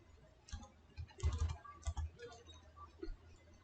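Keystrokes on a computer keyboard typing out a command, a quiet, irregular run of clicks that bunch together in a quick burst near the middle, set against low background noise.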